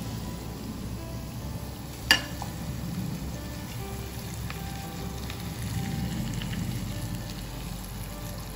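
Pork frying in a pan for kare-kare, with a steady soft sizzle throughout and one sharp clink of a utensil on the pan early on.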